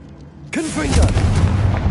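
A Confringo blast spell goes off in Hogwarts Legacy, a sudden loud burst with a sweeping whoosh, then a heavy rumbling boom that sustains for over a second as voice-like chatter sits underneath.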